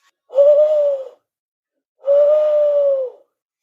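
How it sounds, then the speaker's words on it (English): A tawny owl hoots twice, each a steady, clear call of about a second separated by a pause, loud and close with no other sound. "First, let's have the tawny owl."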